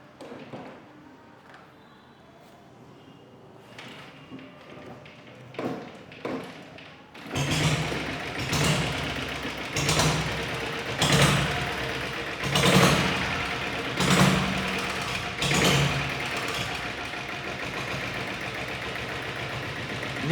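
A vintage motorbike engine is kicked over with a few dull thumps, then catches and idles with a steady, loping rumble marked by regular heavy pulses, close by and with no one talking over it.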